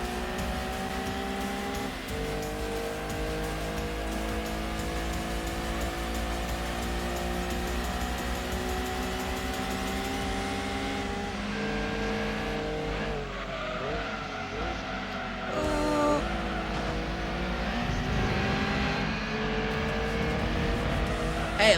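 A Subaru racing in Gran Turismo 2 on original console hardware, its engine droning steadily with shifting revs and brief tire squeal, loud and continuous throughout.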